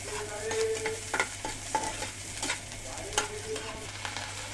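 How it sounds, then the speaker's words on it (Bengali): Onions fry in a pan for spicy savory patishapta, a soft, moderately quiet sizzle broken by scattered clinks and scrapes of stirring over a constant low hum. "পেঁয়াজটা ভেজে নেব"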